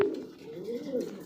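A pigeon coos nearby in a low, rolling, throaty call that swells and dips, with a faint trace of background voice.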